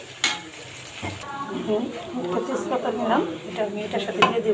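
Onions sizzle and fry in a pan while being browned into crisp beresta. A steady crackle with occasional utensil clinks sits under someone talking throughout.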